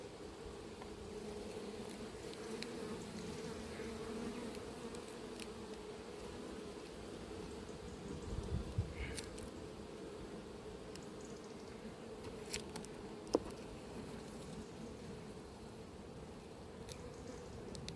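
Honey bees buzz steadily around hive frames at an apiary, a continuous low drone filling the whole stretch with occasional brief rustles and knocks close by.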